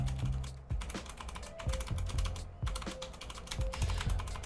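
Typing on a Redragon K556 Pro aluminum TKL keyboard with Altemu red switches and swapped keycaps, a fairly soft, muted patter of keystrokes in quick irregular bursts, close up and without any voice.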